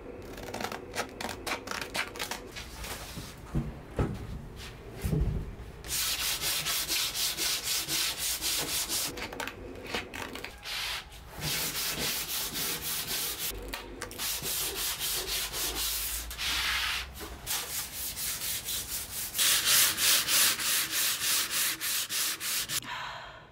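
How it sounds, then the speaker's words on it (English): Hand sanding on a rusty van body as part of a budget van conversion: a continuous series of loud, rough back-and-forth rasping strokes in a steady rhythm, close up, with a few brief pauses. "after many long days of hand sanding, I was running out of elbow grease and motivation."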